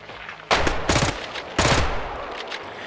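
Two loud bursts of rapid gunfire in the Roblox shooter Hellmet, each a close, rattling volley of shots lasting about half a second, separated by a brief pause and ringing out over a low game background.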